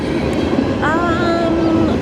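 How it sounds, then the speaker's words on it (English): A train passes close by in a small town called Rome, its loud continuous rumble filling the scene, with a brief metallic wheel squeal in the middle. "there comes the train"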